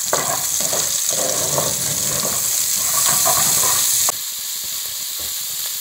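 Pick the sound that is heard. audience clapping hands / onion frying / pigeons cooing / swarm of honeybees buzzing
onion frying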